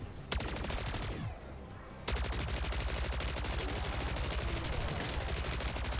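Rapid automatic gunfire in the video game MW3 Zombies rattles continuously, with a brief drop in intensity before resuming at full rate, dense and unbroken throughout.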